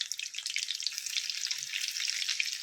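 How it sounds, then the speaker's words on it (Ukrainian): Liver pieces fry in a heated pan, turned to brown on both sides, giving a steady close hiss and crackle of hot oil throughout with no talking. "На розігрітій сковороді обсмажуємо з обох сторін до золотистого кольору."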